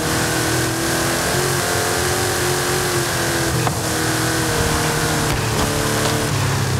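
Car engine in the racing video game Forza Horizon 5 revving and accelerating loudly through gears, a continuous roaring drone with rising and shifting pitch and short breaks at gear changes.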